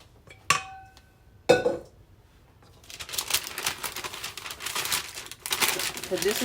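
Wax paper crinkles and rustles as a large ball of tea cake dough is wrapped, a few sharp knocks first and then a steady close run of crackling handling.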